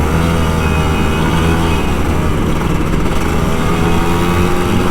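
A Kawasaki Ninja RR 150 two-stroke motorcycle engine drones continuously and loudly up close, a steady buzzing run with no pauses and no voices.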